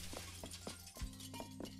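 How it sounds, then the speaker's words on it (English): Glass smashes in the video game The Sexy Brutale, a short, quiet shattering crash with clinking fragments over soft tonal game music. "Don't know what the big fucking smash of glass is yet."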